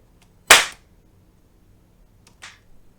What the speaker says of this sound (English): we're going to look at the clap.